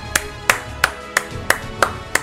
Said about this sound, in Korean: 박수 한 번씩 부탁드립니다